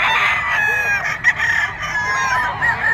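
A Sweater bloodline gamefowl rooster crows at a busy pet market in Bocaue, Bulacan, one loud near crow over background chatter and other birds.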